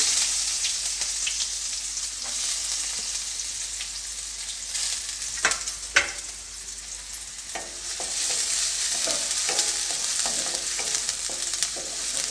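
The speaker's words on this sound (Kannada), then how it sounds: "ಇವಾಗ ಎಣ್ಣೆ ಚೆನ್ನಾಗಿ ಕಾದಿದೆ ನಾನು ಅದಕ್ಕೆ ಒಂದು ಸ್ವಲ್ಪ ಸಾಸಿವೆನ ಹಾಕ್ಕೊಳ್ತಾ ಇದ್ದೀನಿ ಒಂದು ಸ್ವಲ್ಪ ಈರುಳ್ಳಿನ ಹಾಕ್ಕೊಳ್ತಾ ಇದ್ದೀನಿ" Mustard seeds and chopped onion frying in hot oil for North Karnataka stuffed brinjal, a constant hissing sizzle with occasional sharp spoon scrapes and small pops, moderately loud and free of speech.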